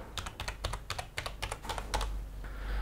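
Fingers type a Wi-Fi password on a computer keyboard, a quick run of close, crisp key clicks in uneven clusters that stops near the end, leaving a quiet room hum.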